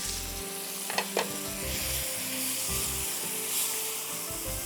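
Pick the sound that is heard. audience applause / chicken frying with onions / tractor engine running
chicken frying with onions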